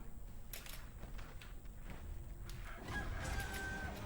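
Chickens cluck and crow in a Sekiro game level, steady mid-level bird calls layered over game ambience and footsteps, with a brighter tone rising near the end.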